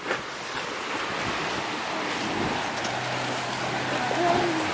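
Small waves lap against rock on a Door County lakeshore, a steady close wash of water under wind buffeting the microphone, with a faint tone and brief voice sounds near the end.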